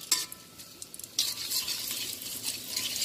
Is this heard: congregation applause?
no